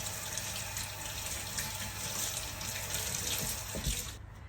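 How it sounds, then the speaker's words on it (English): Water runs steadily from a tap over hands being rinsed at a sink, a continuous close splashing wash that stops abruptly at the end. "now that's all done, I'm just going to rinse off"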